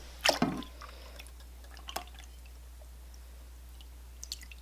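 A can of water is poured into a pot for consommé: a brief splashing pour up close, followed by a few faint, scattered drips in a quiet room.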